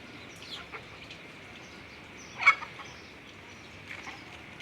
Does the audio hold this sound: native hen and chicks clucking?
yes